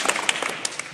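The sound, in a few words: applause for the finalists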